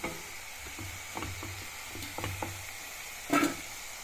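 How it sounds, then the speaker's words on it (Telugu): Amla gooseberry pieces fry in oil for a pickle. A faint, low sizzle runs under occasional soft stirring clicks and scrapes, with one sharper clatter near the end. "ఉసిరికాయ ముక్కలు ఇట్లా ఎర్రగా వేగిన తర్వాత ప్లేట్లోకి తీసుకొని చల్లారి పెట్టుకోవాలి."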